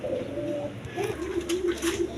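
Kaldam pigeons, a male and female pair, coo softly nearby in several low, rolling calls, one after another, over a quiet background.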